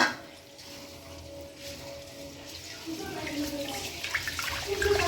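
Rice being rinsed in a bowl of water, with splashing and sloshing that swells louder in the second half, close by.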